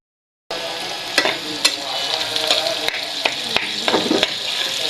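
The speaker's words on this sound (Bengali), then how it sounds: "পেঁয়াজ মরিচ ভাজা ভাজা করে নিচ্ছি" Onion, chili and a whole red capsicum sizzle steadily in a frying pan, with loud continuous frying noise and several sharp clinks and scrapes of stirring throughout.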